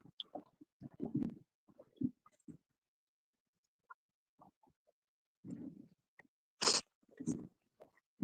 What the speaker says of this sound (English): I'm chomping away on some pepperonis.